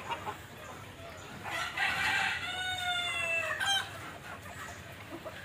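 A native country rooster crows once, loud and drawn out, amid the murmur of a free-ranging flock of native chickens foraging outdoors, with faint clucks around it.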